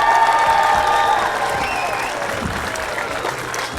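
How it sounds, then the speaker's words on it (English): Crowd applause for a graduating class at an outdoor graduation ceremony in 2023, steady and fairly loud throughout, slowly thinning toward the end with no voices over it. "Give them a huge round of applause."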